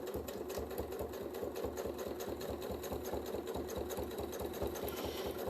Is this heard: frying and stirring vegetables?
no